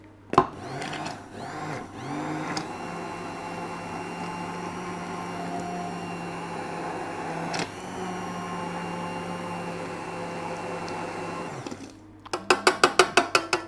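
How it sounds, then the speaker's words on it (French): Immersion blender whirring steadily through a hot, just-boiled dessert mixture for an entremets, a continuous motorized drone with a brief pause midway, then stopping and giving way to a few sharp rhythmic clicks at the end. "Donc, petit coup de mixeur."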